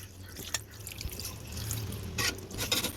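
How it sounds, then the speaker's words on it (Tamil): Water is poured into a pot of beef chukka, giving a short splashing, trickling stream with a few sharper drips and splashes over about three seconds. "கறி வேகிறதுக்கு தேவையான அளவு தண்ணி சேர்த்துக்கலாம்"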